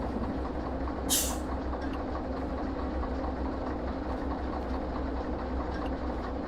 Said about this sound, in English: Let the train come to a stop.